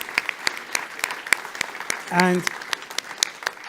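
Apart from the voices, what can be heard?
applause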